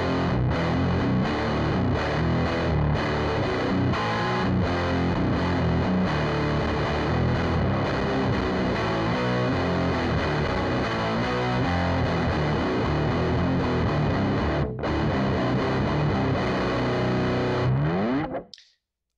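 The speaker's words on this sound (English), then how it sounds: "It's basically, yeah, a red distortion, but it has an active tone stack" A heavily distorted guitar through a Ground FX Grayskull distortion pedal with an active tone stack plays continuously, thick and saturated, then cuts off abruptly near the end.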